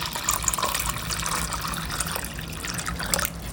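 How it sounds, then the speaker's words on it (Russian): Water pours steadily into a glass, a continuous close splashing trickle that fills the whole moment without pause. "В соусы я добавлю вот в такой стаканчик воду."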